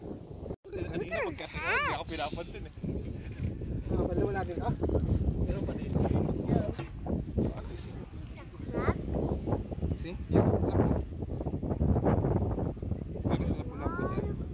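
Strong wind buffets the microphone on a dark night at Dolphin Island during crab catching, a constant low roar running under people talking throughout.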